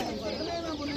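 Chicks and roosters cluck at a poultry market in Karshi, a brief, close burst of busy clucking and fowl chatter filling the moment.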